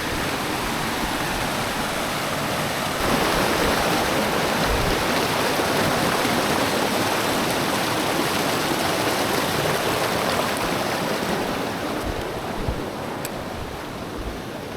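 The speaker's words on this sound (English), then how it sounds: "This is definitely the strongest creek that I've seen have to cross." A strong mountain creek on the Timberline Trail rushes in a loud, continuous roar, close and steady, with no voices.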